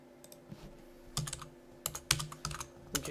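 Someone types a file name on a computer keyboard, a few soft scattered keystrokes followed by short clustered bursts of clicks, close and fairly quiet over faint background hum.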